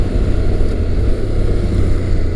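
A Honda NC700X or Kawasaki Versys 650 motorcycle engine drones steadily and loud under heavy wind rush while riding, a constant low roar with no distinct gear-shift breaks.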